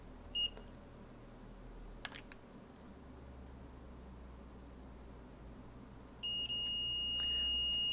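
On an A1706 laptop logic board, a multimeter in continuity mode detects a short circuit. A brief chirp is followed by a faint hiss and then a steady, sustained beep.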